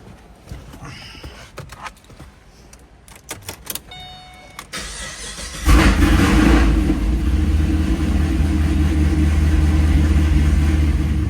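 A car on a short test drive after front-end alignment work and new control arms, tie rod ends and sway bar links; a few clicks and clunks, then the engine and road noise rise and hold steady and close.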